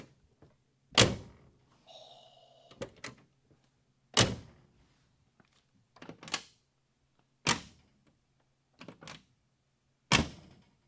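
A series of heavy Dodge Charger crew cab door slams, each a sharp thunk ringing briefly, repeated about seven times at irregular intervals with quiet rattles in between.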